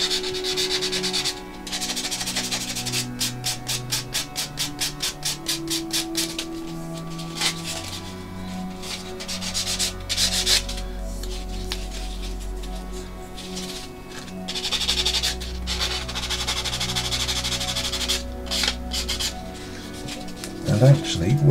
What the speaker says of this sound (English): I'm using the file edges side, which is the coarser side